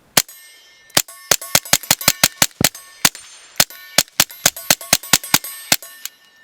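Rapid pistol shots from a Taurus TX22 .22 pistol fitted with a Fox Army FXV22 Pro red dot at a range, around twenty sharp cracks in quick uneven strings with short pauses, loud and close with no talking.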